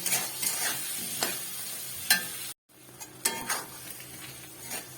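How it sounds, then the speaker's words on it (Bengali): Fried potatoes are stirred in spice masala in a pan for dhokar dalna, a close sizzle broken by scraping stirs and a short gap near the middle. "আলুগুলো দিয়ে আর একটু ভালো করে কষিয়ে নেব।"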